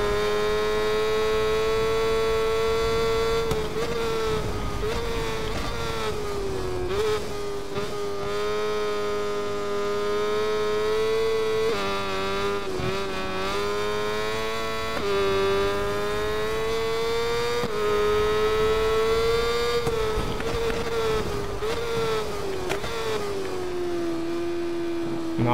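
A racing motorcycle engine in the SBK 22 video game, on the Aragon circuit in a superpole race, drones steadily and loud throughout, with shifting pitch as the bike accelerates and brakes through corners.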